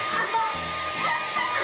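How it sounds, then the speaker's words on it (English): Hair dryer blowing steadily with a bright, airy whoosh, held at a constant loud level close by, with faint voice sounds mixed in underneath. "Hair dryer is just another name of a lullaby machine."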